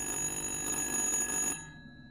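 An old telephone rings in the Little Hope video game, a continuous metallic bell trill sounding loud and near before cutting off abruptly after about a second and a half.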